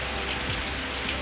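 Steady rain falls outdoors, a dense, even hiss of drops hitting surfaces that continues without a break and with no voices.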